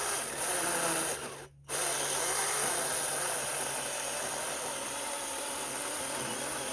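A mini 4-inch electric chainsaw cuts into a tree, a steady buzzing whine that cuts out briefly near the start, then runs on evenly and close at moderate level.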